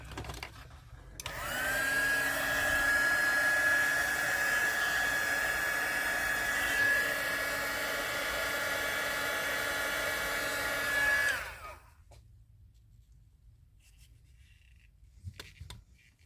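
A heat tool blows hot air on a resin tray made with crushed glass, switching on into a loud, steady whirring hiss with a high whine for about ten seconds, then cutting off to near quiet with faint handling noises.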